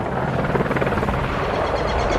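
A helicopter in a video game thrums steadily and loudly throughout, a dense continuous rotor chop with no talking over it.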